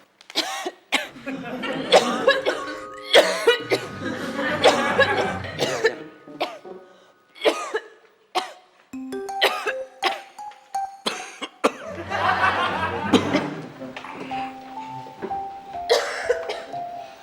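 Repeated harsh coughing fits, close by, in bursts separated by short pauses, with a few voices mixed in.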